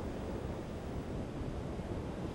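Ocean waves breaking on a beach give a steady, low, rushing wash with wind noise across the microphone, continuous and fairly quiet, with no voices.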